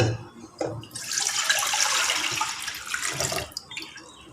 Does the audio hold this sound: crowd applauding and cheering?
no